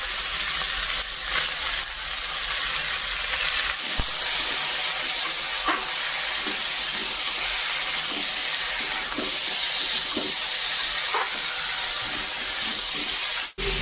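Fish cooking in a curry in a kadai sizzles steadily and close up, with intermittent stirring clicks and scrapes over a continuous hiss of frying.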